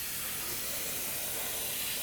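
Tamiya paint sprayed through an airbrush onto an Airfix Sabre model kit, a steady, close hiss of spray running continuously without pause.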